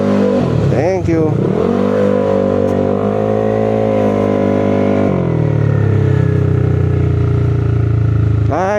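A motorcycle engine runs steadily close by, with a rise in pitch early on and a deeper, louder drone from about five seconds; a person talks over it throughout.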